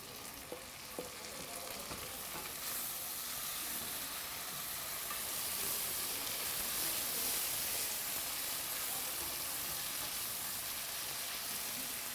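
Tomatoes hit a hot frying pan and sizzle steadily, a close, dense crackle of frying that holds loud and even throughout with no voices.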